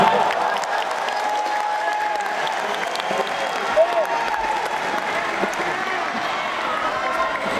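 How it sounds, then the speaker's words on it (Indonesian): Steady applause from a crowd at an Indonesian political party gathering fills the whole stretch, a dense patter of clapping with a murmur of voices underneath. "Beri tepuk tangan Mas Ahaye."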